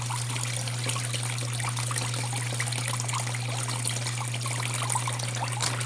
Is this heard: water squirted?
yes